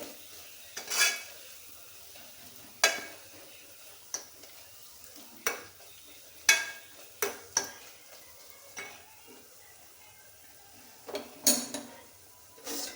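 Sabudana khichdi being stirred in a pan over low heat, scattered clinks and scrapes of a spoon against the metal every second or two over a faint quiet sizzle.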